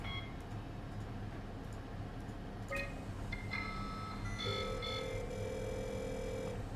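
A telephone in the video game SOMA rings and beeps faintly in electronic tones, several short chirps then a sustained tone over a quiet ambient hum.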